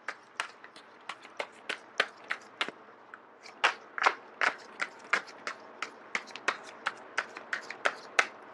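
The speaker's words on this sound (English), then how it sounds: "So once again, I am going to shuffle until the first card drops out." Tarot cards being shuffled by hand during a reading, a run of crisp, close riffling clicks and slaps in quick irregular bursts, with a short pause partway through and no voices.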